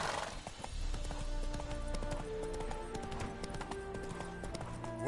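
Roach, Geralt's horse in The Witcher 3 on PS4, gallops with a quick, steady clip-clop of hoofbeats that runs throughout, over soft in-game music.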